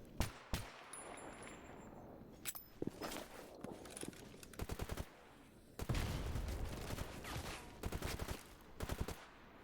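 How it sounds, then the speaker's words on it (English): Gunfire in the video game S.T.A.L.K.E.R. GAMMA, with sharp single shots and rapid bursts of several rounds, some clanging and footsteps among them, over a steady game background. "Oh, they're shooting snorks now."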